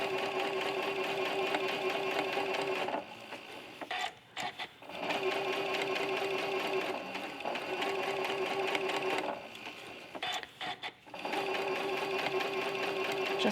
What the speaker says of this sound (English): Now I'm gonna take this to my machine.